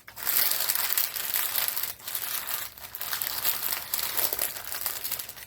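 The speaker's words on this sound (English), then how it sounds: "What we'll then do is wrap it in this wax paper." Wax paper crinkles and crushes steadily as a burrito is wrapped in it, close and dense for several seconds with only brief pauses and no talking.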